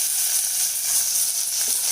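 Chopped large onion sizzles in hot sesame oil in a pan with tempered lentils and green chilli, a steady close hiss without pause.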